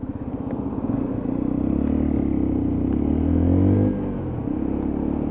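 A Lexmoto ISCA motorcycle riding on a road, its steady engine drone rising slightly in pitch as it accelerates, then easing off near four seconds, heard close with wind rumble and no talk.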